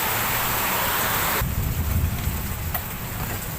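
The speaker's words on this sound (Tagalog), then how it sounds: "Ang lakas sa ulan dito" Heavy rain pours steadily in a Philippine motorcycle workshop where a Honda XRM 110 is being converted to disc brakes, a dense, loud, continuous hiss that roughens and shifts after the first second and a half.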